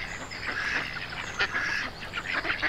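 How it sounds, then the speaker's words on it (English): A duck quacks loudly and repeatedly in harsh, nasal bursts, near and fairly busy, with some overlapping calls and no talk. "Dottie is quacking so loudly she does not hear the"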